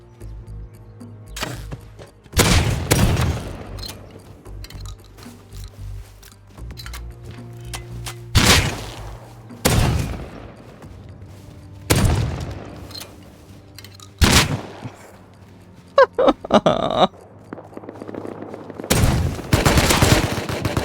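Double-barrel shotgun shots in a survival game on a clan-only EU server, several loud sharp blasts spaced a few seconds apart, each with a short ringing tail over quiet background noise.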